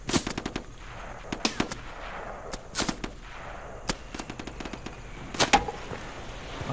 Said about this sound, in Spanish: No veo de dónde son los tiros.